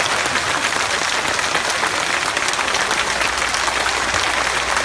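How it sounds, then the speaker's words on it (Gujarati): A large crowd at an OBC SC ST unity rally for the unemployed in Vadgam bursts into loud, sustained applause, dense continuous clapping filling the air without a break. "એકવાર જોરથી તાળીઓ પડે"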